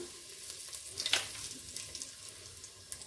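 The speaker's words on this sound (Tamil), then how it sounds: "பிரியாணி தாளிப்பு போட்டுக்கலாங்க" Biryani tempering spices sizzle in hot oil and ghee for a fish biryani, giving a steady close hiss with a brief louder burst partway through.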